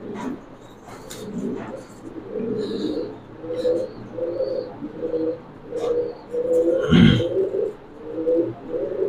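Yellow Bombay pigeons at a pigeon farm give low, throaty coos in repeated rolling phrases, fairly close, with a brief louder flutter near the end and faint chirps from other birds behind.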